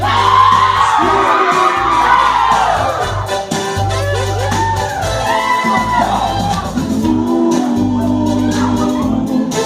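Children at a birthday party shriek and cheer over loud music with a thumping beat, a dense, continuous crowd of excited voices throughout.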